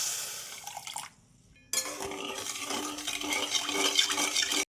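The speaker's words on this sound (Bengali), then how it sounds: "এখানে দেখো হাফ কাপ জল দিয়ে" About half a cup of water poured onto 200 grams of sugar in a kitchen, a short splashy pour, a pause, then a longer hissing stream of liquid cut off abruptly near the end.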